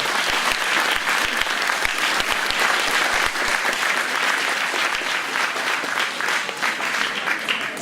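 Audience applause at a Téléthon gathering in Saint-André-les-Alpes, a dense, steady wash of many hands clapping throughout, loud and sustained, with no speech over it.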